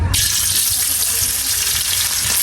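Fish fry in a pan with a loud, bright, continuous sizzle close up, accompanied by faint low knocks and stirring.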